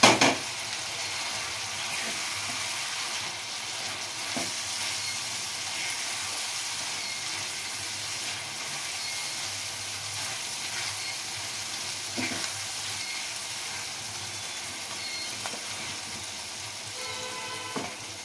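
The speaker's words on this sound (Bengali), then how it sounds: "এবারে আমি মাছের বড়াগুলো সব দিয়ে দিলাম।" Bhetki fish fritters frying in a pan of hot oil, a steady dense sizzle holding for the whole stretch with a few faint utensil clicks, close and without talk.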